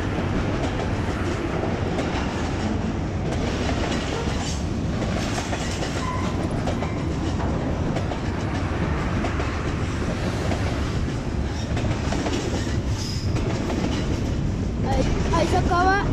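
An intermodal freight train hauled by GE AC4400CW locomotives rolls past close by, with a steady, loud rumble and continuous clickety-clack of wagon wheels over rail joints throughout.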